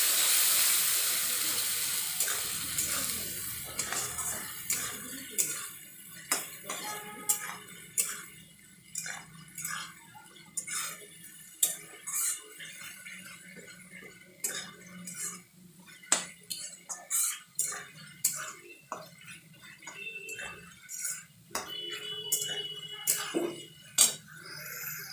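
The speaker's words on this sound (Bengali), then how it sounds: "এবার ভালোভাবে কষিয়ে নেব" Spices with Kashmiri red chilli powder being sautéed in a pan for a boal fish oil curry, soft sizzling under scattered clinks and scrapes of a spoon against the pan, fairly quiet and close.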